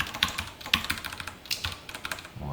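Someone types code on a computer keyboard, with irregular light clicks and taps in quick succession, close and moderately quiet, no voices.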